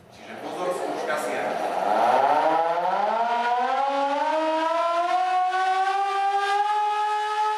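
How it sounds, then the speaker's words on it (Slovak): A hand-cranked civil defense alarm siren in an air-raid shelter winds up from a low growl to a loud, steady wail that rises in pitch over several seconds and then holds, close and sustained. "Keď sa vyhlásoval poplach, tak bola takáto ručná siréna."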